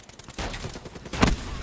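Gunfire in Call of Duty Black Ops 3 multiplayer, a short burst of shots with one sharper crack near the end, moderately loud against a busy game backdrop.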